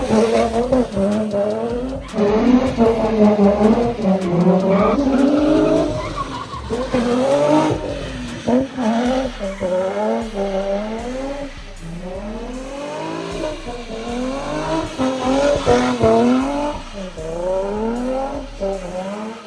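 A 2JZ-swapped Nissan 180SX spins a full 360, its engine wailing in rising and falling revs as the tires squeal continuously, loud and close, for the whole stretch with no talking.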